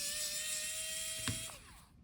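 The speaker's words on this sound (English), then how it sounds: "So unscrew the screws" A small screwdriver turns out the screws holding the heatsink and fan inside an HP Envy x360 13 laptop during a teardown, giving a steady thin mechanical whine with a tick near the end, close and alone.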